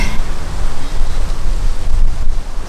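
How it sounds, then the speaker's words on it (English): Steady wind rushes and buffets the microphone beside a narrowboat at Kings Langley, a broad low roar with gusty swells and no voices. "It's a little bit windy."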